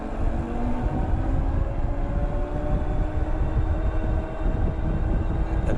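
A Hanevear H100 dual-motor electric bike climbs a hill at full throttle, its motors giving a steady whine over a constant rumble of wind and road noise, with no talking.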